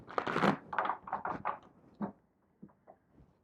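A tarot deck being shuffled by hand: a few soft riffling and tapping bursts of cards, close and quiet, tapering off into sparse light taps at the end, with no talk.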